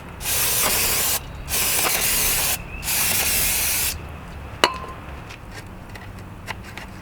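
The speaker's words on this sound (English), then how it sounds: "Ran out of brake clean, so now I use a carbon throttle body cleaner." Carbon throttle body cleaner is sprayed onto a plastic LS intake manifold in three loud, close hissing bursts of about a second each, followed by quieter clicks and taps.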